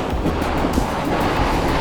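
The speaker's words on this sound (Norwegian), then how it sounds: "Det er vind." Steady, loud wind buffeting the microphone on the Svalbard coast near Isfjord Radio, with broad rumbling gusts and no voices.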